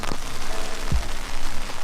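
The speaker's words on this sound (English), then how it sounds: "It's raining still." Steady rain patters across the whole stretch as a constant broadband hiss, with a brief low thump near the middle.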